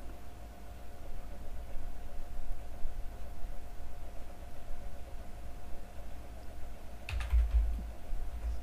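Typing on a computer keyboard, entering an address: a soft, steady patter of keystrokes under a constant background hum, ending in a brief louder burst of keys and a thump.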